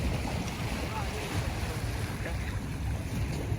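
Steady sea wind rushes across the microphone over a constant wash of waves, a broad continuous roar with no pauses.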